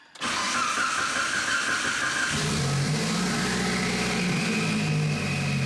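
A Mitsubishi Evo 8 cranks briefly, catches and starts, then settles into a steady, close, loud idle with a droning engine note and no talking.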